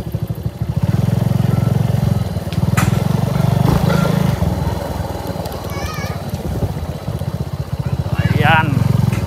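Motorcycle engine running steadily and close by while being parked near the boardwalk at Bulabog Beach, Boracay, a continuous low chugging drone that drops briefly and returns, with people talking over it.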